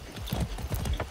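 Horse hooves in the video game Far Cry 6 clip-clop in a quick, steady rhythm, close and fairly soft.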